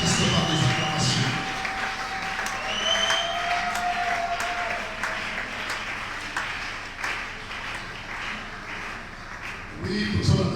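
Steady applause and cheering from a church congregation fills the space, a continuous broad wash of clapping with voices mixed in, swelling again near the end.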